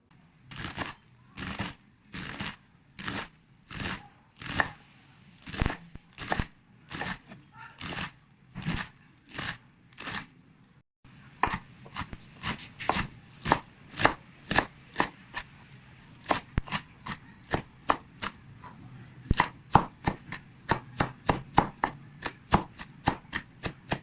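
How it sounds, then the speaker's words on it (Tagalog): Bok choy (pechay) being chopped finely on a board, crisp regular knife strikes at a slow steady pace, then quicker, denser chopping after a short pause, close and alone. "Umpisahan natin sa paghiwa ng pichay."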